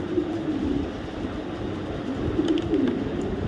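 Low, steady cooing from racing pigeons runs through a constant background rumble, with a few soft coos rising above the noise.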